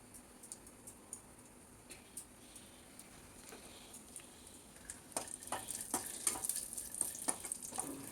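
Dry fruits frying in ghee in a pan on low heat, a faint sizzle with soft clicks and scrapes of stirring that grow busier and louder toward the end, with no voices.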